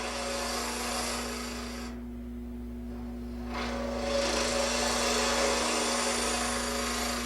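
A small woodturning gouge hollows the inside of a wooden capsule box lid on a lathe, a continuous scraping rasp over a steady motor hum, briefly easing off mid-cut before resuming.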